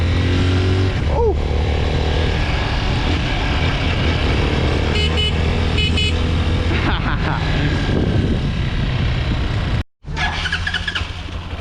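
A street-legal dirt bike engine runs steadily and loudly close by, a continuous rough drone with brief revving swells, cutting out abruptly near the end before resuming.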